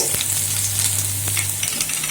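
Cinnamon bark sizzles steadily in hot oil, a close, continuous crackling hiss with a low hum underneath and no talking.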